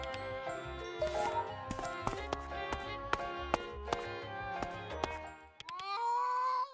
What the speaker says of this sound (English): What was that, a cat's yowl?